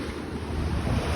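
Strong sea waves off Norway after a strong wind make a loud continuous roar of surf, thick with wind buffeting the microphone, in one short burst with no voices.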